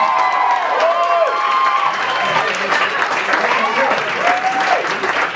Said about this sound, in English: if you guys want to give me one more round of applause